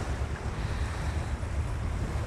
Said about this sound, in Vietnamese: nghe tiếng biển, sóng biển rồi tiếng máy dầu của những cái thuyền nhỏ hoặc là những cái động cơ trên chiếc thúng chạy